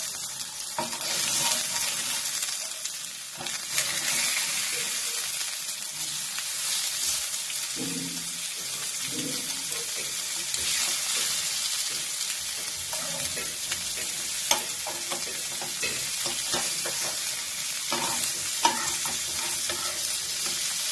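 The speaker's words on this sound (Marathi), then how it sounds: "तेल गरम झालेलं आहे. आता आपण काय करायचं यावर असं थोडंसं फ्राय करून घ्या." Fish frying in hot oil in a home kitchen, a loud continuous sizzle and crackle close by, with occasional stirring and scraping sounds and no talk.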